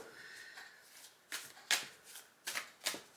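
Playing cards are shuffled close by, with a soft riffle followed by several crisp, quick card-snapping bursts at irregular intervals, quiet and with no voices.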